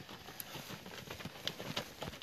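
Horse hooves clip-clop at a rural Yörük gathering in Selendi, a quick uneven patter of hoof strikes at moderate distance, fairly faint.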